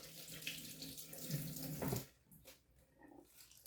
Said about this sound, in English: I'm just going to run water through it.